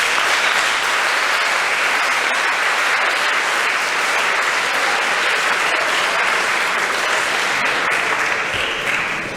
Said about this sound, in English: I'll ask you just to clap for him.